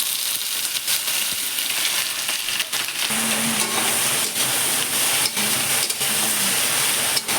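Vegetables sizzle in hot oil in a wok for khichuri, cooked after whole garlic, onion and ginger were fried, giving a loud, continuous frying hiss with occasional clinks and stirring knocks.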